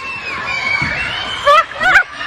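Children shout and scream as they run away, with short shrill bursts rising over a murmur of crowd noise and voices nearby.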